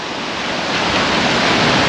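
Steady rushing wash of waves breaking on the shore of Lake Vättern, loud and close, building slightly with no voices.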